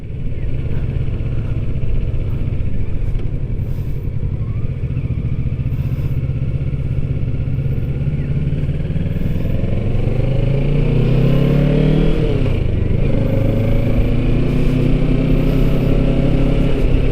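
A vehicle engine revs and roars past on a road at the foot of a mountain in Sariaya, Quezon, loud and close over steady road rumble, its pitch climbing and then sweeping down as it passes.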